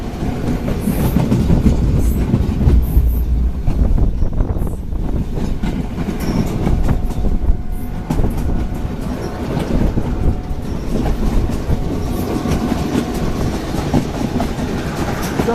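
A train in Sri Lanka rumbling steadily along the rails, loud and close, with a continuous low roar and faint rhythmic clatter from the wheels, no voices.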